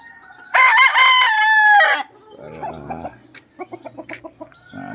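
A rooster crows loudly and close by in one long call, followed by softer clucking and rhythmic chicken calls as the birds are exercised in the morning.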